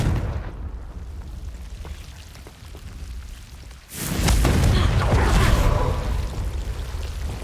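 A Confringo spell explosion in Hogwarts Legacy breaks out as a sudden loud burst partway through, then rolls into a sustained rumbling, crackling roar that fades slowly, following a quieter stretch of rushing ambient noise.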